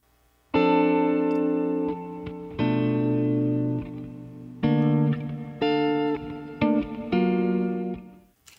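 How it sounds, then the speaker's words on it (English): An electric guitar recorded with reverb plays a slow sequence of sustained, rich chords, each ringing out with a long wash of reverb before the next one begins, with no other instruments. "So here's the guitar part."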